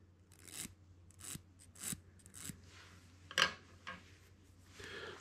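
Square file rasping on a piston ring at an engine workbench, four or five short scraping strokes in a slow, even rhythm, close and quiet, with a brief sharp metallic tick in the middle and no talk.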